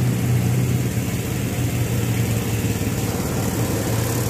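Small engine of a washing machine pump used for spraying disinfectant, running at a steady close drone with a constant low hum and no break.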